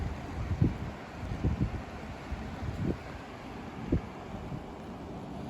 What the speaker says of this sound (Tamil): அப்படியே காற்று சுற்றி சுற்றி அடிக்குது.